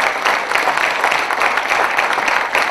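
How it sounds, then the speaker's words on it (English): Audience applause at an AEGON Religare Life Insurance talent contest, loud close crowd clapping sustained evenly throughout. "First of all, a big round of applause."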